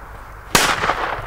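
A Weco Pyrocracker firecracker goes off with a single sharp, loud bang after a quiet start, followed by a ringing, crackling tail as the blast echoes away.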